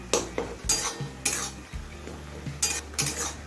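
Tomatoes stewing in their own juice in a pan over low-medium flame, stirred with a spatula in repeated scraping strokes and clinks against the metal, with a faint sizzle between strokes.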